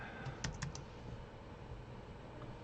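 A short burst of typing on a computer keyboard, several quick close key taps early on, then quieter, with a faint background hum and no talking.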